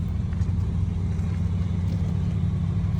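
A car drives along a mountain canyon road close behind a horse and rider, giving a steady low engine rumble that holds at an even level.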